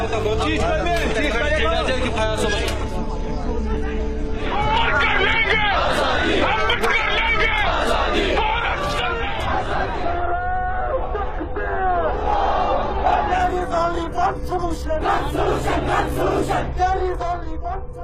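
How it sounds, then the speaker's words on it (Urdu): A large crowd in occupied Jammu and Kashmir chants pro-freedom slogans, loud massed voices rising and falling in a continuous roar with shouts over it, close and dense throughout. "یہ نعرے تو پوری وادی میں گونج رہے ہیں"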